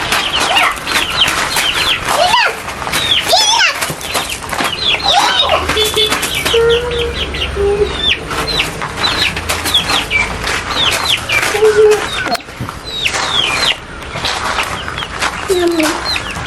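A chicken clucks repeatedly alongside chirps and flapping wings, with children's voices and talk running over the busy, close farmyard commotion.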